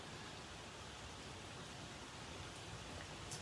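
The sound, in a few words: rain falling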